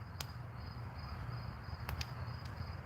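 Steady, faint cricket chirping, a continuous high trill, over a low background hum, with a few sharp clicks.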